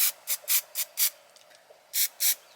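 A rattle can of spray paint hisses onto a tractor axle on a 2007 John Deere 2305, a run of short sharp bursts, five in quick succession, a pause, then two more, close and loud.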